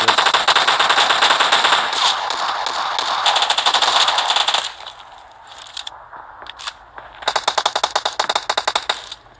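Rapid Uzi submachine gun fire in a video game, loud and close, with long sustained bursts, a quieter gap with scattered shots, then more quick rattling volleys.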